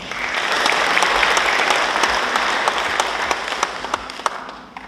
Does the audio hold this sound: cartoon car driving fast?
no